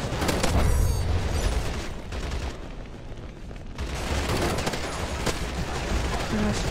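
Gunfire rages in a free-to-play shooter video game: dense, continuous rapid shots and bursts, loud and close, with a brief lull midway before the firing resumes.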